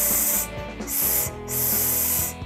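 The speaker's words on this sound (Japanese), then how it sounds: "このスプレーちゃんと出るか確認しよう" Insect repellent aerosol spray can being test-sprayed, giving three loud, close hissing bursts of about half a second each, with a brief pause between bursts.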